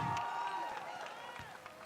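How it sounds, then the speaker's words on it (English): Hometown basketball crowd in Phoenix, Arizona applauding a player as he checks out of a boys' tournament game, a steady broad wash of clapping and cheering in a busy arena with a commentator's voice over it. "Grant Mattingly going to check out as he gets a round of applause from the crowd"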